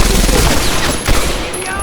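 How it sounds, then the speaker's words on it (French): Machine gun fire rattles in a rapid, loud, continuous burst during gameplay of the World War II shooter Medal of Honor Airborne, dense and close across the whole stretch. "Mitrailleuse, je vais utiliser."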